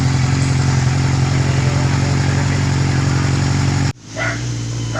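A Yamaha Zeal 250 motorcycle with a hard-start and no-idle problem idles close by in a steady, even drone, then abruptly cuts out near the end, leaving a quieter background.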